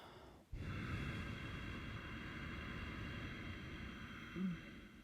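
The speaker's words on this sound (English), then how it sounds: "creating a little bit of tension in the back of the throat, which is what we do during Ujjayi breathing." A single long Ujjayi breath, drawn with tension in the back of the throat, makes a steady airy hiss that starts abruptly after a brief pause and holds evenly for several seconds with a slight swell near the end; no talking.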